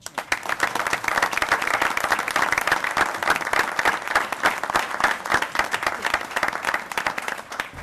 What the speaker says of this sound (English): we're going to give you a round of applause for what you're doing right now